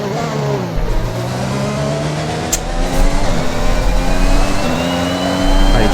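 A Formula 1 car engine in an F1 2021 video game drones loud and steady, pitch shifting as it revs and accelerates, with a sharp click partway through and no talk.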